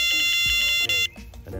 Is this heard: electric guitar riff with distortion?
no